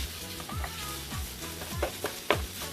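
Sausage fries in a pan, a steady close sizzle punctuated by several scraping stir strokes, with no talking.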